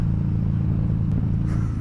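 Motorcycle engine under riding load, a steady loud low rumble with a constant droning pitch and faint wind buffeting, no voices.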